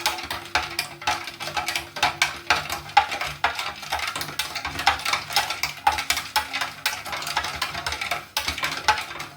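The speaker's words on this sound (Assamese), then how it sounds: "চেনিখিনি গুলি যোৱালৈকে আমি ধুনীয়াকৈ ফেটি ল'ম" A spoon or whisk repeatedly clinks against a vessel while jamun juice is mixed with black salt and sugar, a quick, uneven run of metallic taps and scrapes that is close and fairly loud, with no voices.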